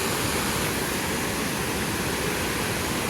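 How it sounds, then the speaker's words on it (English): A double waterfall at El Chiflon pours in a steady, dense roar that fills the whole clip without pause, with no voices. "This is a double waterfall, it looks like."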